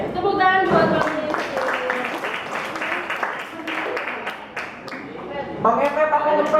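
A classroom group claps and applauds for someone, a dense burst of hand claps that rises, dips slightly in the middle, and swells again near the end, with voices mixed in.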